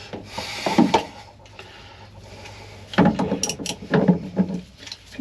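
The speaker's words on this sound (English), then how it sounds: "let me pull off the hose here then" A hose is pulled off a cracked toilet valve on a truck camper, giving close, scraping plastic rubs and rasping creaks in uneven bursts.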